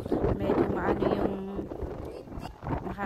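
Gusty wind buffets the microphone on a crowded second-floor rooftop, rumbling in bursts that fade and return, with people talking nearby.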